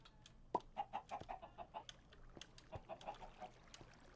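Clucking chickens in a Minecraft-style video game, a run of short repeated clucks and squawks at moderate loudness, some rhythmic, with a few sharp clicks mixed in.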